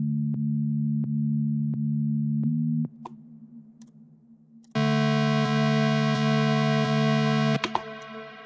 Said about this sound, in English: You could hear it if I just initialized the synthesizer, it'd sound like this